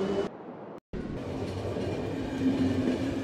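Train rolling along in the video game The Final Station, a steady rumbling rail noise with a faint hum, briefly cut out near the start before resuming loud and continuous.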